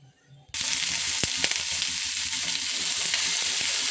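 Spice paste of garlic, onion and cumin hits hot oil for a fish curry and sizzles loudly and steadily after a quiet start, with a few stirring knocks close by.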